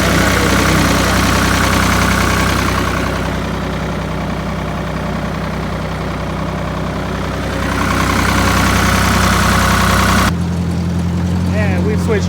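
A heavy tractor engine runs loudly and steadily nearby, its low rumble easing slightly midway before cutting off abruptly near the end.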